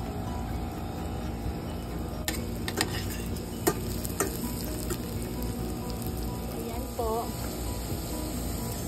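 Apan-apan, an Ilonggo vegetable dish, stir-fried in a pan at a campsite, with a steady sizzle under scattered utensil clicks and scrapes, and a few voices and background sounds around it.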